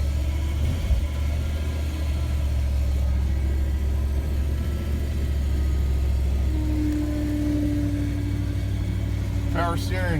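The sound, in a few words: car engine cold start idling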